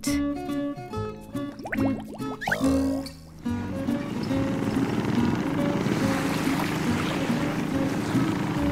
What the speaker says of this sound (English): Boat.